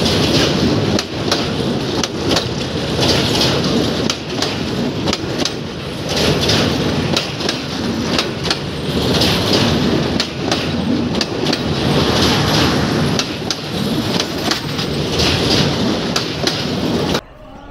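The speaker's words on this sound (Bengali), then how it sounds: "তিস্তা ব্রিজে এটা লোকাল ট্রেন।" A local train rolls across the Teesta railway bridge with a loud, continuous rumbling clatter broken by rhythmic metallic clanks, sustained throughout with no voices.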